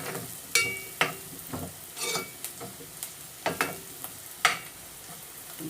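Food sautéing in a pan while a tuna carbonara is being made, with irregular scraping stirs and clinks of a utensil against the pan over a soft background sizzle, close by.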